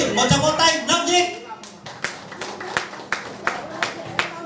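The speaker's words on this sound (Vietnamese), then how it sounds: "Một tràng vỗ tay nồng nhiệt." Warm audience applause at a birthday celebration concert, a run of claps with sharp louder peaks spread over several seconds; voices from the crowd are audible underneath.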